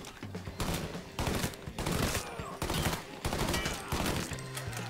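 Rapid bursts of gunfire from an old weapon in the video game Mafia 3 crack out in several close, loud volleys with short gaps between them.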